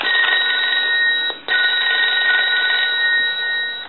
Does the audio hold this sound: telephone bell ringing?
yes